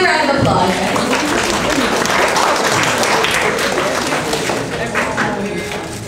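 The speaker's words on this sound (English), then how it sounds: "Let's give him a round of applause" A crowd at a design talk applauds with dense, sustained clapping that fills the room, holding strong before tapering slightly at the end.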